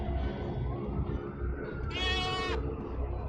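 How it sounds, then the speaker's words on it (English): A genetically engineered goat in the video game Dreamfall Chapters lets out a single clear, harmonic bleat midway, rising above a steady low ambient game background. "The genetically engineered goats."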